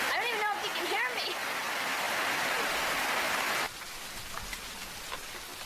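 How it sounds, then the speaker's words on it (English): Heavy rain pouring at night in a forest camp, a dense, loud steady hiss of drops on surfaces that suddenly drops to a softer patter partway through, with speech over the downpour. "we have to get up at 5 in the morning, even if it rains like this all night"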